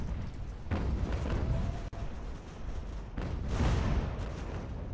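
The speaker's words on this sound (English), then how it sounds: "get in there and get a nice volley in before they have a chance to reload" In the Ultimate General: American Revolution video game, a naval cannon volley rolls out as deep, rumbling booms in two heavy sustained waves, with a brief sharp crack between them, all fairly loud and close.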